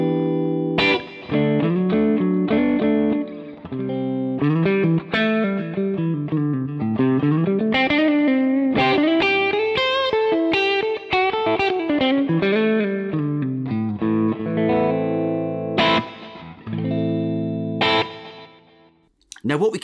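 Electric guitar through the clean channel of a Marshall Silver Jubilee Studio amp, played loud and up close as a continuous run of chords and melodic lines that fades out near the end.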